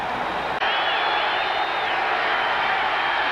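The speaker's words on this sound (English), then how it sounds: "And this crowd is alive again." Football stadium crowd at a Saints vs 49ers game roars after a touchdown, a loud continuous wall of cheering with a whistle-like tone rising and falling, no talk.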